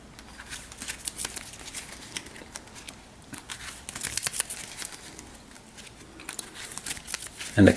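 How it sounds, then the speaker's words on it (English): A deck of playing cards shuffled at a tabletop game session, soft riffling and patter in short bursts, close but quiet, with some background noise. "give this a couple more shuffles"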